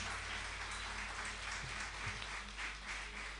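Audience applause at a live concert, a steady wash of many hands clapping with a few louder claps, fairly faint over a low hum.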